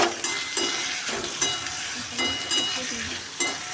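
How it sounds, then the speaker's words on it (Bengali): Chopped onions frying in oil in a pan, a steady close sizzle with periodic scraping from stirring, fairly loud and continuous, no talk. "পেঁয়াজটাকে তেলের মধ্যে ভালো করে ভেজে নেব"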